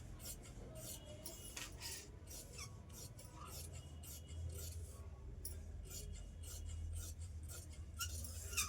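Scissors cut steadily through blouse fabric, a continuous close rasping and snipping with repeated strokes over a low background hum, no talking.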